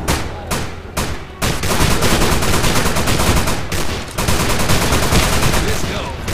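Shotgun blasts in a co-op zombie shooter map, Haunted Hell's Reach: a few sharp, separate booms open the sequence, then give way to a loud, dense, unbroken barrage of firing and noise.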